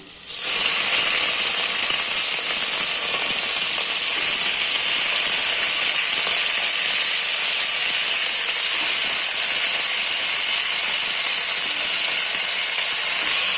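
A loud, steady hiss of hot oil sizzling fills the whole stretch, a continuous close frying roar without pause or speech, as country chicken is added to tempering oil.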